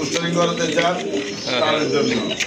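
Large pigeons at a pigeon seller's loft coo in repeated throaty rolls, close and fairly loud, overlapping one another with voices talking in the background.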